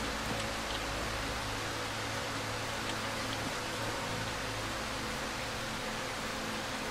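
Steady rain falls in the video game Darkwood, a dense, even hiss of downpour that holds constant at moderate level, with no voices.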